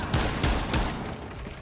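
Gunfire in the tactical shooter Rainbow Six Siege: several loud, rapid bursts of shots crackle close together in quick succession, then trail off into a rumbling tail.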